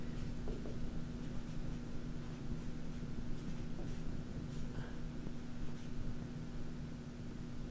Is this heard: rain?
no